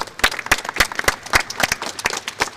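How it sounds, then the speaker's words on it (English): A small audience at a live discussion event on discrimination and neglect in WASH applauds with a loose scatter of distinct, sharp claps, irregular and fairly close, fading a little toward the end. "Big round of applause, please."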